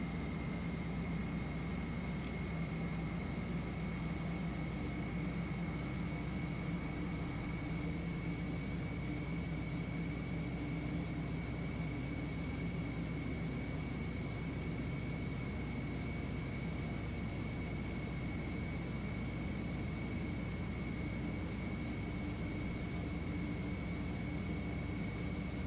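Boeing 727-100 jet engines at increased throttle in the Prepar3D flight simulator, a steady, loud cockpit roar with a constant high whine held throughout, no talk.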